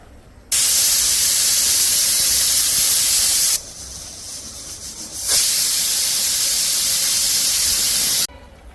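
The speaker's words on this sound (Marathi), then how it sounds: "अशाच प्रकारे पाच ते सहा सिट्ट्या करून घेऊ घेणार आहे कुकरच्या" A pressure cooker whistle hisses loudly with steam while cooking rice, dips briefly to a quieter hiss, then blasts again before stopping abruptly.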